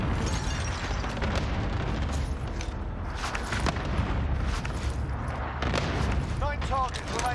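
Cluster strike explosions in Call of Duty: Warzone, heard as a run of loud booms and blasts mixed with gunfire, with talking over the top.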